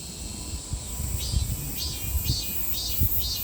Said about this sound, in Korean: 매미도 우는 소리가 두 종류예요.